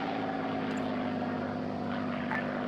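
Propeller plane in the Arma 3 video game set in the 1939 Winter War, a steady droning engine hum passing overhead at moderate distance, with no talk.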